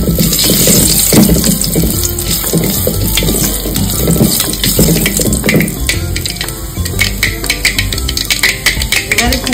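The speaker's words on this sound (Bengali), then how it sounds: "এবারে কুকারেটা আমি ঢেলে দেবো।" Food is poured into a pressure cooker while making a Bengali home recipe with crushed garlic and mustard, producing a loud, continuous gushing splash with clattering bits close by.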